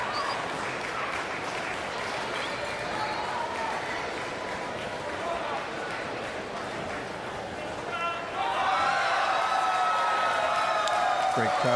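A sold-out stadium crowd applauds steadily at a para table tennis standing doubles match in Paris, a continuous dense wash of clapping and cheering that swells louder near the end, with a commentator's voice over it.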